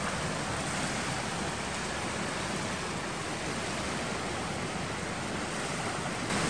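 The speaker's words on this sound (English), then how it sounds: "Look at the waves, my goodness." Steady, roaring wash of surf filling the whole clip, broad and continuous like waves breaking close by, with no voices.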